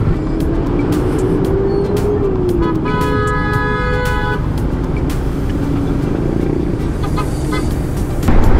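Bumper-to-bumper heavy traffic on Commonwealth Highway, a continuous close rumble of car and bus engines with a vehicle horn sounding a few tones midway and a louder surge near the end.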